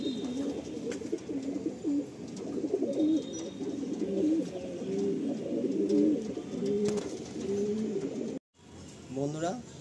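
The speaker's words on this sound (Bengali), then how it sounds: "আসুন বন্ধুরা, আমরা পায়রা রিলিজ করে দেখাই।" Pigeons at a rooftop loft coo continuously in a soft, rolling chorus close by. The sound cuts out briefly near the end, and a voice is partly heard over the birds.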